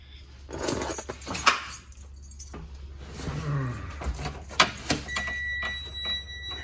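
Car keys jingle and clatter in a few quick bursts close by, with some handling noise and a faint electronic tone toward the end.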